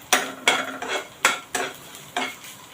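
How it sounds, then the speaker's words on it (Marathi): Chopped green chilies and curry leaves being sautéed in a pan over low heat, with about six distinct scraping stirs of a spoon against the pan over a soft background sizzle. No voices are heard. "आता हे दोन मिनटं मी जरा स्लो गॅसवर हे परतून घेते"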